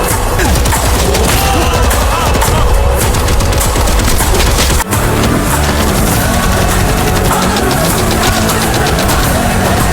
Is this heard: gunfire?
yes